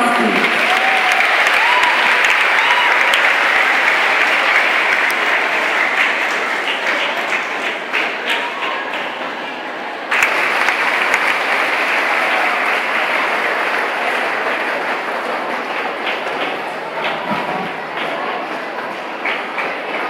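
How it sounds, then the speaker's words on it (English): Large school audience at Liloan National High School applauds to welcome the chief of staff to a drug symposium, a long, loud, continuous roar of clapping that holds steady for about twenty seconds with cheers scattered through it. "A big round of applause, please"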